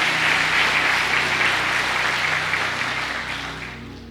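A church congregation applauds during a sermon, a thick wash of clapping that holds strong and then slowly fades toward the end, with no voices rising above it.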